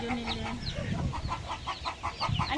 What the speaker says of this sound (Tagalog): Ang laki ng mga manok na dito.